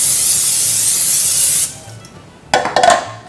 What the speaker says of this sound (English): You're going to spray it really good, especially if it's designed like mine is, with all the creases so it doesn't stick.